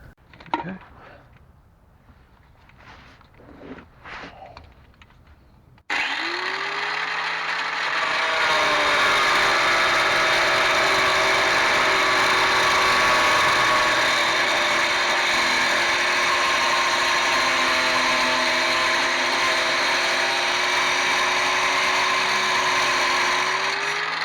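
A power tool cuts through a seized sway bar bolt on a Ford Explorer front suspension, a loud continuous high-pitched grinding whine starting abruptly after a few seconds of quieter handling noises and holding steady to the end.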